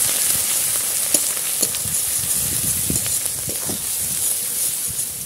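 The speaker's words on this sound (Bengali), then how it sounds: "এবার ভালো করে কষিয়ে নেব।" Ground cumin, coriander, turmeric, dry chilli powder and salt frying in oil for Bengali katla fish kalia, a steady close sizzle with scattered soft scrapes and knocks of stirring throughout.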